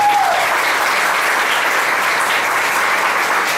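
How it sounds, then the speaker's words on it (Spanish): A church congregation breaks into strong, sustained applause, a dense, steady wash of many hands clapping that holds at an even loudness for the whole stretch. "Dale un aplauso fuerte al Señor."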